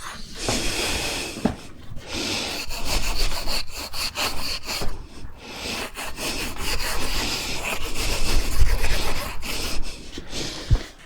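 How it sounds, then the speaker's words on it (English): A wire brush scrubs heavy corrosion off a steel winch cable in steady, loud, close back-and-forth rasping strokes with brief pauses between bursts. "I'm going to take my wire brush and I'm just going to go kind of brush over the cable just to get rid of some of the heavy corrosion"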